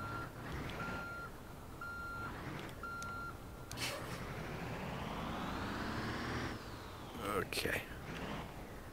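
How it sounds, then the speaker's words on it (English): A bus in the BeamNG driving game gives a series of evenly spaced reversing beeps over a low engine hum, followed by a rising engine whine as it moves, with a person talking alongside. "there's the reverse beeper thing."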